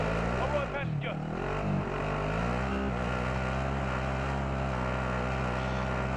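Steady, droning dune buggy engine in the video game Call of Duty Warzone, rumbling loudly throughout, with a brief pitch dip early on; voices occasionally talk over it.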